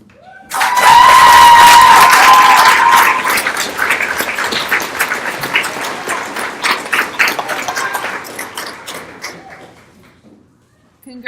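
An audience at a 4H club speech contest applauds young speakers with a burst of clapping that starts loud, then thins into scattered claps before fading out.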